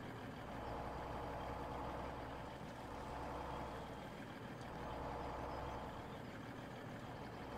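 A heavy logging truck idles in Farming Simulator 17, a steady low diesel rumble with a faint hiss running evenly for several seconds, with no talk over it.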